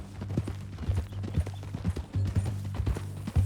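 A horse's hooves clip-clop at a steady walking rhythm in Red Dead Redemption 2, close and distinct over a low hum, with no talk.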